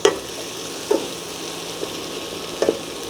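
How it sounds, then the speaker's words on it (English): Squash and string beans sauté in a pan with a steady close sizzle and frying hiss. A few soft clicks of stirring punctuate it, and no one speaks. "about 2 minutes of sauteing the squash and the string beans"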